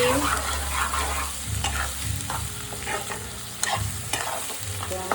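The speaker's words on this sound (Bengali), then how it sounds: "মশলাটাকে ভালো করে কষে নিতে হবে" Chicken with ginger-garlic paste, cumin, turmeric, chilli and salt frying in a nonstick wok, heard as a close, loud scraping stir repeated in uneven strokes over a low frying hiss.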